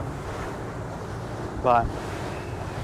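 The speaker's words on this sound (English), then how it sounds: "So you're just constantly rolling in these waves." Rough ocean waves roll a commercial stone crab boat broadside, a constant low wash and rumble with wind buffeting the microphone, and one brief spoken word partway through.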